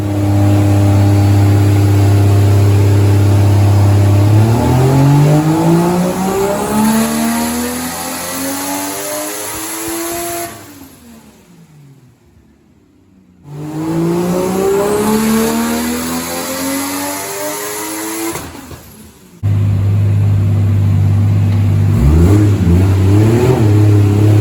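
A Toyota Supra Mk3 with a 1JZ engine runs on a dyno, loud and close, the note rising through long sweeping revs, dropping away between pulls, then climbing again.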